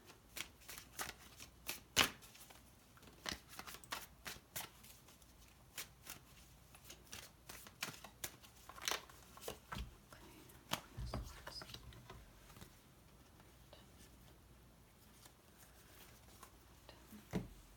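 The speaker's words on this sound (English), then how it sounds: "And pull another summary card." Tarot cards are shuffled and pulled during a reading, a soft close rapid patter of card flicks and riffles in irregular bursts, quiet and alone.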